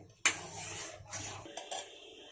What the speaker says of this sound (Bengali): দুধটা এইভাবে জাল করে নিতে হবে, অনবরত নাড়তে থাকতে হবে, নাহলে নিচে বসে যেতে পারে